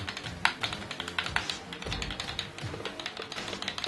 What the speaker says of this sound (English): you could hear it make a noise once you pull the trigger down